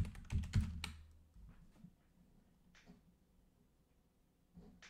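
Close keystrokes on a computer keyboard come as a quick burst of typing at first, followed by a few scattered, quieter key presses in an otherwise quiet room.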